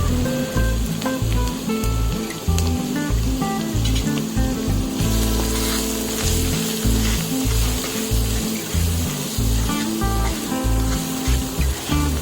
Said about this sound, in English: So let's add all the herbs and spices to the hot wok and mix them well.